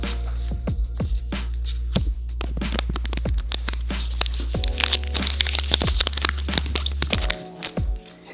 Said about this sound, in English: I love this little wrapping because it makes like ASMR sounds